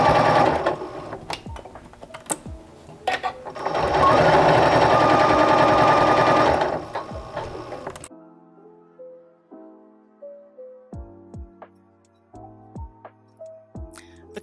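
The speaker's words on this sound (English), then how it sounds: "And just sew." Janome sewing machine with a left bi-level presser foot stitching close to the edge of quilt binding, running in a steady loud whir for several seconds before stopping, then quiet clicks and handling sounds.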